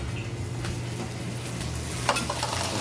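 Ground deer meat sizzling steadily in a hot pan as it is stirred in, with a constant frying crackle and an occasional light scrape of a utensil, moderately close and without talking.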